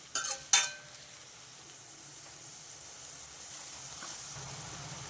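Onions frying in a pan for palak paneer, a faint, steady low sizzle following two brief sharp clatters at the start.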